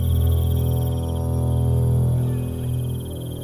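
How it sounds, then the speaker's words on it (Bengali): Steady, shrill insect chirring of crickets runs unbroken over a low humming drone, a tense night backdrop for a horror story with no voices present. "একটানা ঝিঝি পোকার ডাক আসছে।"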